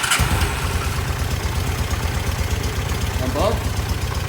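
A single-carburetor 750 motorcycle engine idles steadily after a carb clean, a loud, close, even low rumble that holds without revving, with a brief spoken word at the start.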